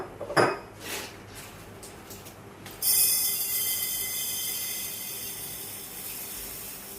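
Soaked lentils tipped from a utensil into a container in a home kitchen: a few sharp metallic clinks and clatters, then a sustained bright rattling pour, close and fairly loud, with no talk.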